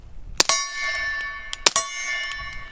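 Two pairs of quick subsonic shots from a pistol with a Liberty Mystic suppressor, each pair a muffled pop followed by a loud ringing clang of steel, the metallic tone sustaining briefly after each.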